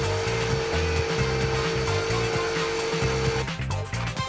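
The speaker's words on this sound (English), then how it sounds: "I'm just using the Bladerunner to cut out this section." Bladerunner saw cutting through quarter-inch MDF, a loud steady rasping buzz of the blade with a rhythmic motor hum, continuous and close until it winds down at the end.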